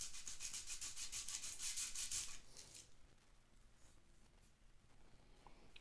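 A guitar part is rubbed back and forth on sandpaper over marble, making rhythmic close scratchy strokes for the first couple of seconds that then fade to faint, quieter rubbing.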